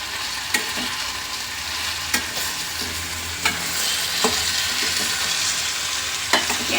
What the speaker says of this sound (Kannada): ಈಗ ಇದನ್ನ ಸ್ವಲ್ಪ ಸಣ್ಣ ಉರಿ ಮಾಡಿಕೊಂಡು ಒಂದು ಸ್ವಲ್ಪ ಬೇಯಿಸ್ಕೊಳ್ಳೋಣ